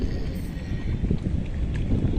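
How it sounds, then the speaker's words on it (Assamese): Strong wind blows by the water with waves nearby, buffeting the microphone in a loud, rough, continuous rush for a couple of seconds. "ইয়াতে কি বতাহ ৰে ভাই"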